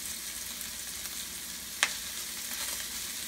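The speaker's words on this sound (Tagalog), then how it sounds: "Ilagay ko na rin itong brown sugar para mag-brown itong karne." Meat frying with brown sugar in a hot pan for humba, a steady close sizzle and crackle that hardly changes, with one brief sharp pop partway through.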